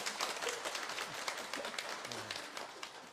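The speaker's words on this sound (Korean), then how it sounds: "박수를 치려면 힘차게 쳐셔야 됩니다." A church congregation at a Sunday service claps in a faint, distant patter of many hands that continues steadily for a few seconds.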